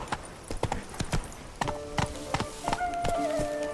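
Roach the horse gallops in The Witcher 3, rapid rhythmic hoof clip-clops close by at moderate loudness, with faint tonal game sounds entering toward the end.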